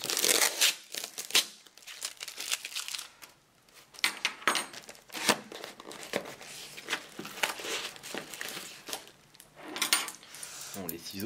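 A mailed parcel bag is torn and opened by hand, with close crinkling plastic, sharp tearing and jangling car keys in irregular bursts and pauses.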